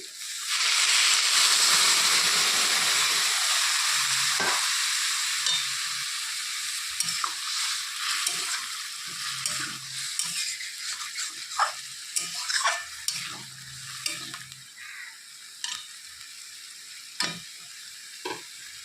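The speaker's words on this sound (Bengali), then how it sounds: "এখন আমি এর মধ্যে দিয়ে দিব অল্প কিছুটা সামান্য পরিমাণে ঝোল" Broth is poured into a pan of fried bitter gourd for a fish chorchori, setting off a loud hiss that settles into quieter sizzling with scattered pops and the scrape of stirring.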